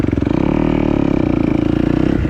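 A motorcycle engine drones loud and close while the bike is held up in a wheelie, a steady pulsing mid-range roar with rapid firing beats, easing off at the very end.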